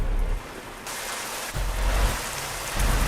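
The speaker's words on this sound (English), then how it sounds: "I also can't see where I'm going because it's raining." Heavy rain in the Euro Truck Simulator 2 driving game pours steadily with a dense hiss and low rumble, swelling and easing in volume, with no talking.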